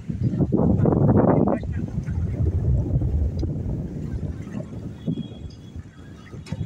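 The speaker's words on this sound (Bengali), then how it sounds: "এই হরিরামপুরের পদ্মা নদীতে কিন্তু প্রচণ্ড পরিমাণ বাতাস" Strong gusty wind by the Padma river at Dhanushira ghat in Harirampur, roaring loudly into the microphone with a heavy burst early on, then steady buffeting that eases slightly toward the end.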